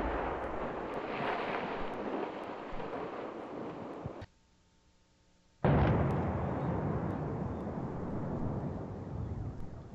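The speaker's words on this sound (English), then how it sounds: "That blast was 144 feet long. It looked like one blast, but it wasn't. It was 15 separate blasts." A granite quarry blast made of 15 separate charges in sequence, heard as a long, loud, rumbling roar that cuts off abruptly into near silence, then returns as a heavy continuing rumble.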